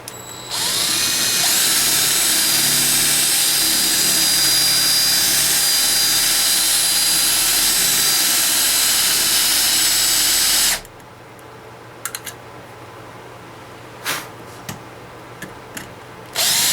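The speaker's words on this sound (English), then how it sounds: "So let's get started drilling." A power drill bores out a rivet on a Corgi Bedford CA die-cast model van, a loud, close, continuous whine lasting about ten seconds before cutting off, leaving only faint handling clicks.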